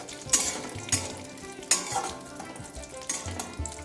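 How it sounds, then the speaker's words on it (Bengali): Cashews and raisins frying in ghee for Eid lachha semai, with steady close sizzling and repeated scraping stirs of a spoon against the pan, alone without talk. "এই ঘির মধ্যে আমাকে কাজু কিশমিশটা একটু ভেজে নিতে হবে।"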